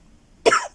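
A single short cough bursts out of near silence, close and fairly loud, from someone in a crafting session making gel plate prints with stencils, fading quickly.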